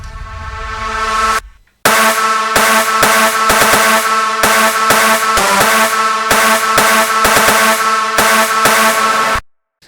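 A swelling reverse reverb wash made in FL Studio over a rhythmic electronic EDM pattern, with sounds rising into each hit, ending abruptly after a steady loud stretch.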